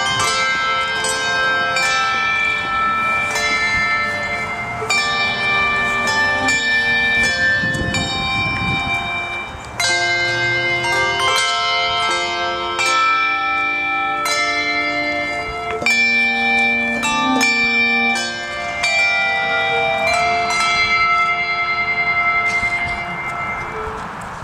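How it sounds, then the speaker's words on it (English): A church handbell choir rings Christmas carols at a live nativity event, with bright layered bell tones in steady melodic patterns, sustained and fairly loud, played alone without talk. "they're going to play a couple beautiful Christmas carols with their bells"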